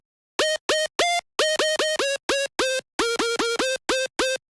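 A bright, buzzy dubstep synth lead plays short staccato notes in a bouncy rhythmic melody, each note cleanly separated by brief silences.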